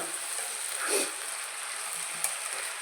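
Brinjal and broad beans curry frying and being stirred in a pan, a steady close sizzle with a brief stirring scrape, no voices.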